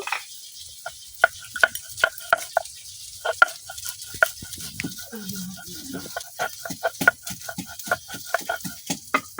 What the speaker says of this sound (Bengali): রসুন দেওয়ার পরে কিন্তু খুব সুন্দরভাবে বাটা হয়ে যাইতেছে